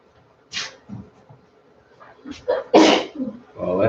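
A person sneezes once loudly and close by, preceded by a couple of short breathy intakes and followed by a brief vocal sound.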